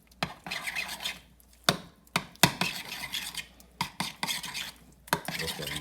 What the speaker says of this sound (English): And we're gonna kind of stir around.